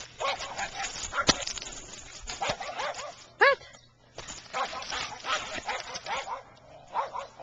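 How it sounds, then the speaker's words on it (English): A farm dog lets out several short barks and whimpering yelps, fairly close, mixed with a person talking over them. "let's go see who's making all the noise. This bad dog."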